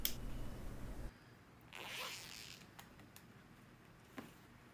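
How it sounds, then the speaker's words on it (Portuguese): A zipper is handled while a fabric pouch is being sewn, giving a loud rasp at the start, then a soft sliding scrape and a few light clicks and ticks, close up with no talking. "Agora o zíper, dentinho para baixo, e ele tem que ficar para fora do tecido."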